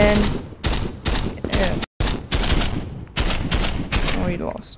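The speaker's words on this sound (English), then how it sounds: "Submachine gun's pretty good." A submachine gun fires in rapid bursts in the browser shooter game Krunker, with clusters of sharp, close shots separated by short gaps across the stretch.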